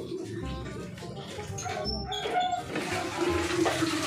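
Water splashes and pours steadily as someone bathes to cool off in hot weather, with voices talking over the running, gushing water.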